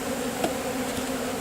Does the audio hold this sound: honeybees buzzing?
yes